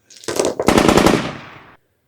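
Burst of machine-gun fire from a tabletop wargame sound effect, set in Great War trench fighting, a rapid loud rattle lasting under two seconds that stops abruptly.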